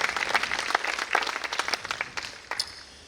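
Audience applause for a performer at a talk on the evolution of quelbe music: a steady burst of many hands clapping, dense and close, fading slightly toward the end.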